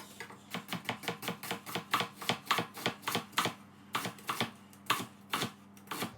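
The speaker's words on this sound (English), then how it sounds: "you can roughly chop this" Vegetables for ratatouille are roughly chopped with a knife on a cutting board, a fast run of crisp, evenly spaced thuds, close and clear, with no talking.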